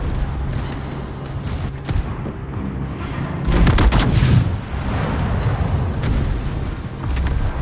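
Heavy naval gunfire from the warship Ohio in a naval battle video game, a string of booming cannon blasts with one large salvo near the middle, over constant battle rumble.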